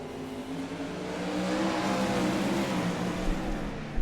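Race car engines roaring around a dirt oval at Limaland during a B-Main race, a steady loud drone that swells as the cars pass close by, with no voices over it.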